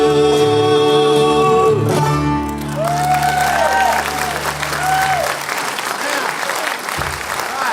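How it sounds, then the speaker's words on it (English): A folk concert audience claps after a song, the applause swelling as the final sustained musical notes fade out, then continuing as a dense, loud crowd wash. "Sounds like the applause of self-recognition."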